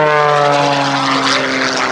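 Aerobatic propeller plane flying low at an airshow, its engine loud and close with a steady droning whine that slows slightly as the aircraft eases down, no voices over it.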